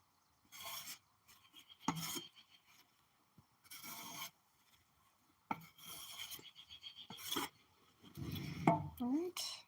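A hand tool scrapes bark off logs being peeled in repeated rough, raspy strokes of about a second each, near and moderately loud, with short pauses between passes.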